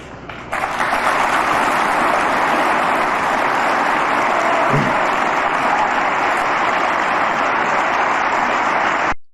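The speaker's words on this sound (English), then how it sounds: "he deserves that applause" Sustained applause from an audience fills the room, a dense, loud wash of clapping that starts abruptly and holds steady for about nine seconds before cutting off.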